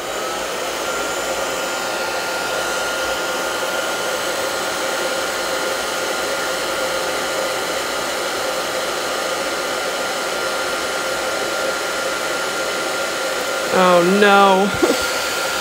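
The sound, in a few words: hair dryer drying watercolor painting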